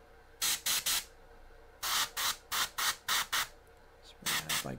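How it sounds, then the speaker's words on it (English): An airbrush sprays primer in short, sharp hissing bursts, three quick puffs, then a longer run of six, then a few more, close and alone. "Spray that like this, like that."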